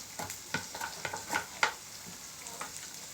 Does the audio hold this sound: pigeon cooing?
no